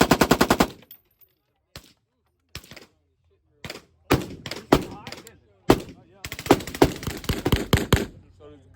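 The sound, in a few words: 308 SCAR rifle firing fully automatic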